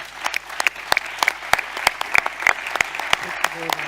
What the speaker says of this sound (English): Please give a round of applause for our...